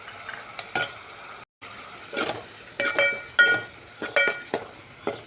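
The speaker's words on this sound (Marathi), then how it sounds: "तेल सुटेपर्यंत मस्त काळा मसाला परतून घ्यायचा।" Black masala being stirred and fried in oil for urad dal, with repeated scraping strokes of a spoon against the pan over a soft sizzle, separated by brief pauses.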